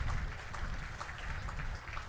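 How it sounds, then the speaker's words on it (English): Crowd applause ripples through the ground after a diving boundary stop in a Leicestershire Foxes v Nottingham Outlaws one-day cricket match, a steady, distant wash of clapping with no voices. "Much applause"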